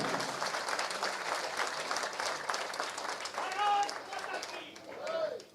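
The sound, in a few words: audience applause at rally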